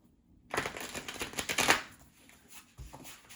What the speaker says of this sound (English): Let me pull 2 cards from your Words of Wisdom deck here.